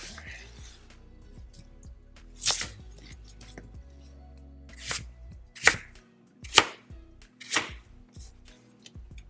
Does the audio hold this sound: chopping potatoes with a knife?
yes